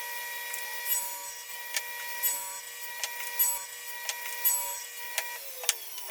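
A saw tapers wooden parts for a Langstroth beehive stand, with a constant machine whine underneath and repeated short cutting bursts and knocks at close range, without speech.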